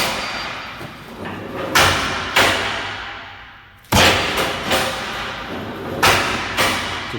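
Punches landing on a punching bag during hip-thruster exercises in a gym, several sharp heavy thuds spaced a second or two apart, each followed by a brief rattling decay, loud and close.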